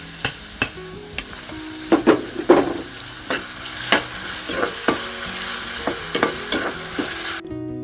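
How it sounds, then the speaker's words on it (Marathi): Tomato, onion and chili sauté in a pan with a steady frying hiss, punctuated by a dozen or so sharp spatula knocks and scrapes at an uneven rhythm, close up and without voices. "इकडे आता टमाटर कांदा वगैरे आपला मस्त परतून घेऊया"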